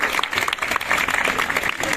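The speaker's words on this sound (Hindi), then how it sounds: "उनके लिए एक बार जोरदार तालियां बजाकर उनका अभिनंदन" Vigorous, sustained clapping from an event audience greeting a TV serial actor who serves as a Beti Bachao Beti Padhao brand ambassador, many hands at once forming an even, close wash of sound.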